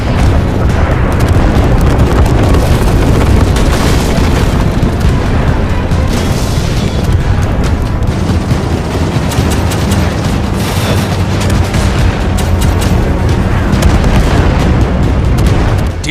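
Bombs dropped by bombers in a video game explode one after another in a dense, constant barrage, loud booms and rumbling blasts that overlap with no letup, with no voices.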